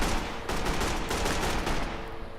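A gun in a first-person shooter video game fires continuously in rapid bursts, loud and close, with a dense, constant rattle throughout and no talking.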